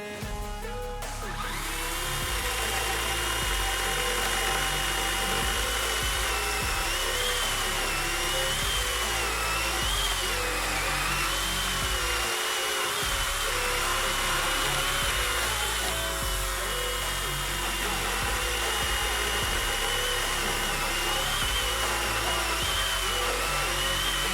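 Procraft PKA36 cordless mini saw cutting wood, a steady loud motor whine running almost continuously with slight changes in pitch as the blade works through the timber, with background music.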